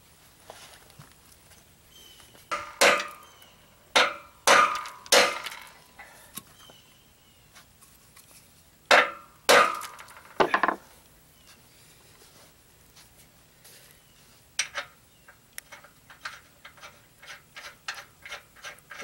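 Hardened bolts hammered through boat trailer springs, loud sharp metallic blows in irregular clusters with pauses between, then a quicker run of lighter taps near the end.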